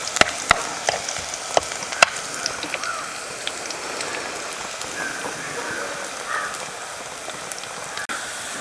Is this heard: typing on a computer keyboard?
no